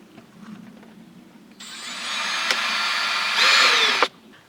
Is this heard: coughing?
no